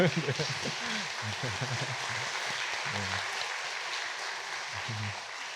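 A church congregation at a Sunday service claps to welcome a visiting pastor, a continuous soft wash of applause, while a voice speaks over it in the foreground.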